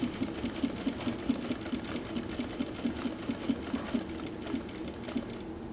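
A Juki DDL 8700 industrial sewing machine runs in an even, rapid rhythm of needle strokes over a low motor hum, close and steady throughout with no one talking.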